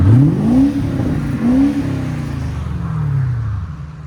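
A 2006 Lexus SC 430 with a 4.3L V8 and deleted muffler revs loudly up close, two sharp rising blips followed by a longer falling rev that settles back to a throaty idle, with no talking.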